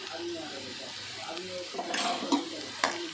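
Turmeric being stirred into frying chicken curry, with a soft sizzle, scraping stirs and a couple of sharp clinks of a spoon against the pan, while a voice speaks over it.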